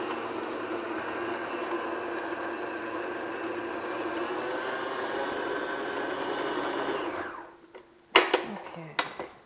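An electric mixer beats butter and sugar for snickerdoodle dough, a steady whirring drone that runs loudly then winds down and stops near the end, followed by a few sharp clanks and knocks.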